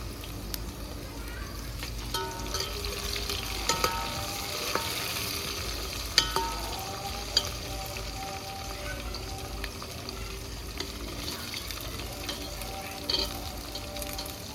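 Khichdi ingredients, including curry leaves, fry in a pan over a wood-fired village stove in the evening, with steady sizzling and occasional stirring scrapes throughout.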